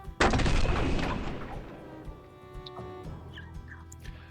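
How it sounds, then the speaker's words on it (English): A single sharp gunshot cracks out, then rolls away in a long fading echo, with faint distant sounds trailing afterward. "And you just hear a gunshot."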